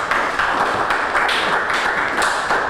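Round of applause for a member at an October club meeting: steady, moderately loud clapping from a room of people for nearly three seconds, with no voices over it.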